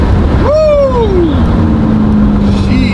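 A newly delivered supercar with a titanium exhaust revs up loudly and close, its engine note sweeping sharply upward then falling away into a steady drone, over constant road and wind roar.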